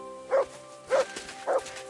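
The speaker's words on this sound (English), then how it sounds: "Good dog, Mutt." Three evenly spaced barks from a dog in the video game Kingdom Come: Deliverance II, each short and moderately loud over faint background ambience, with no talking.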